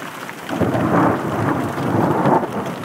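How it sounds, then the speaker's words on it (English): Thunder rolls and rumbles through a spring thunderstorm in a canyon, a steady broad roar with rain and slushy precipitation hissing underneath, swelling louder around the middle and staying sustained throughout. "Thunder, lightning, slush."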